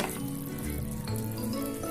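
Raw cherry pickle simmers in a covered pan on the stove, giving a steady, close sizzling and bubbling hiss that runs through the whole moment, with a faint clink of the pan and no voices.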